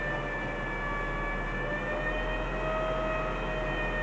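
A BMW electric-vehicle conversion's electric motor spins steadily at about 2,500 RPM, giving a loud, constant high-pitched whine with layered tones over a low rumble and no talking.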